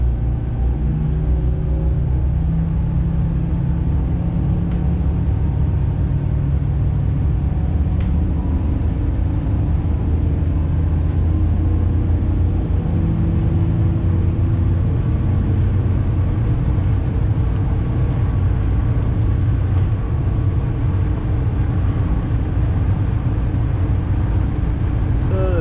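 Steady, deep rumble of F45 boat engines under throttle as the boat runs forward, a constant droning roar with no change in level throughout.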